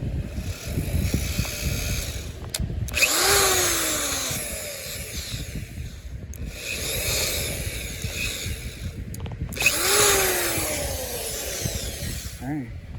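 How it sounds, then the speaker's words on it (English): A power drill bores pilot holes in wood outdoors while fixing the top of a chicken run, in three whining bursts a few seconds apart that rise and fall in pitch, each separated by short pauses with some handling noise. "So making some pilot holes."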